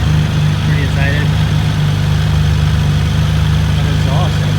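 A 2018 Kawasaki Z900RS motorcycle idling, its engine and exhaust giving a steady, close, low rumbling throb that stays constant throughout, with a voice faintly audible over it.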